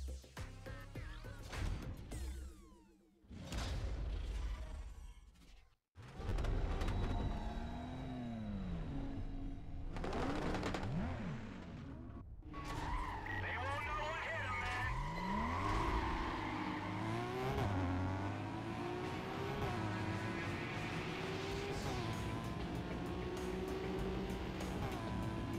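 Aston Martin DB9 engine in the racing game NFS Carbon, repeated revving rising and falling in pitch through gear changes, with brief cutouts early on before a sustained, steady drone of driving.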